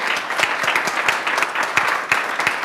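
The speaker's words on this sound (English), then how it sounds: "I think it's also important if we keep the round of applause going for Jenna Dominique," Continuous clapping from a seated audience at a storytelling masterclass, with individual sharp claps standing out near the front over a thick, steady bed of applause that holds throughout.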